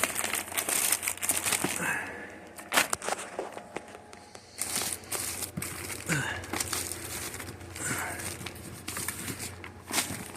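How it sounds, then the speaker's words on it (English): Plastic bags and gift bags crinkle and rustle in bursts as they are sorted out of a box, close and moderately loud, with occasional footsteps and a voice speaking quietly at times. "Gift bags. Gift bags. Plastic bags, boxes, gift bags, more gift bags."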